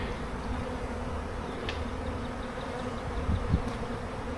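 Swarm of honeybees gathering around a beekeeper outdoors beside a truck, a continuous dense buzzing drone with occasional individual bees passing close by.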